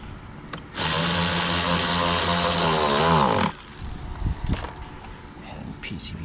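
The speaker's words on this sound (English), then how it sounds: "Tighten this one up." Power tool tightening a bolt on a Dodge/Jeep 3.6L Pentastar engine during intake work, one loud sustained whir lasting about three seconds that winds down, followed by quieter clicks and handling noises.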